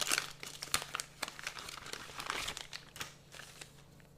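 A sheet of stickers from a GEPRC KX5 drone box being handled, close crinkly crackling and rustling of paper in irregular bursts, fairly quiet and with no talk.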